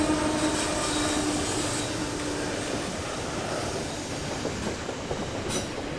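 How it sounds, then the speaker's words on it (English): A train moving past, a loud, continuous rolling rumble with faint rhythmic clatter and a thin squealing tone early on, steady throughout with no voices. "Shot of the train moving"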